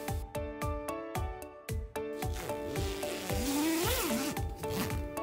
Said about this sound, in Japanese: ファスナーがついております。